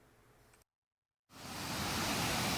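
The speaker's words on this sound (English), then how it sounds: "We're at the top of the falls now." Steady roaring rush of a waterfall heard from the top of the falls on Minnesota's North Shore near Lutsen, loud and broadband, after a brief moment of total silence cuts in.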